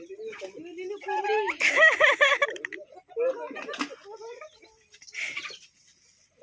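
A village hen clucks in short, close bursts, mixed with people talking over it.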